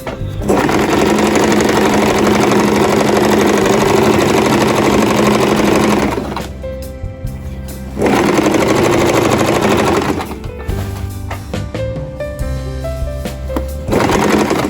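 A sewing machine stitches over a pleat on a belted shalwar, running in a loud, steady, rapid rattle for about six seconds, then continuing in shorter bursts with brief slowdowns between.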